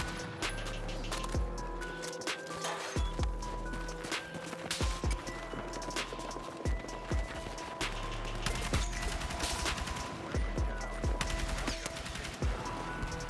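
An L85A3 rifle fires in the video game Battlefield RedSec in rapid bursts of sharp shots, repeated many times over a steady background of game noise.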